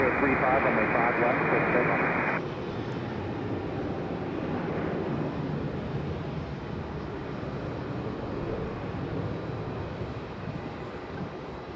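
A FedEx Boeing 767 departs Raleigh-Durham International Airport, a steady broad jet roar holding for about twelve seconds at moderate distance, with a brief tonal layer over the first two seconds.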